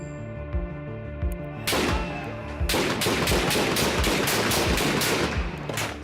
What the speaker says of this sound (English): Same shots.